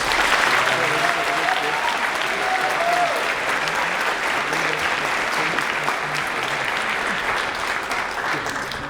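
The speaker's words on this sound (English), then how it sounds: "Please give them a big round of applause." Sustained loud applause from an audience honoring veterans at a Veterans Day ceremony, a dense wash of clapping with scattered voices underneath, slowly easing over nine seconds.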